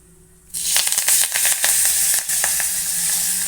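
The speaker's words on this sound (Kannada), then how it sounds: "ಇದು ಸ್ವಲ್ಪ ಬಿಸಿ ಆಗ್ತಾ ಇದ್ದಾಗೆ ಸ್ವಲ್ಪ ಕರಿಬೇವು ಹಾಕ್ತಾಯಿದ್ದೀನಿ." A handful of curry leaves hits hot oil with a sudden loud crackle. Sharp, close sizzling and spitting follow and continue at a high level, broken by brief pops.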